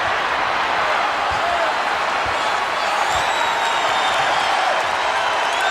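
A basketball arena crowd during a Miami Heat versus Milwaukee Bucks NBA game cheers and applauds, a steady, loud wash of massed voices and clapping that holds throughout.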